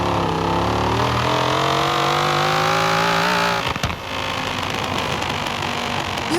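A car engine in the racing game Forza Horizon 4 revs hard, a loud sustained growl that climbs steadily in pitch, then cuts off abruptly into a rougher, lower burbling idle.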